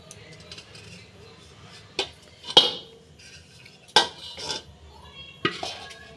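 A metal cooking pot swirled around to coat it with ghee, giving a few sharp metallic clanks and scrapes at irregular intervals over a quiet kitchen background.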